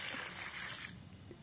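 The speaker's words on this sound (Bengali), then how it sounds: "তো নিয়ে এসছি গাইজ 1 বালতি, বড়ো বালতি সব থেকে। তো চলো ঢেলে দিই।" A large bucket of water is emptied over garden plants, a steady broad splashing gush for about a second that then cuts off into a quieter trickle, close by.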